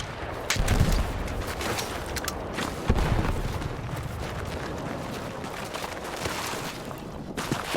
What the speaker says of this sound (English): they're getting shot from behind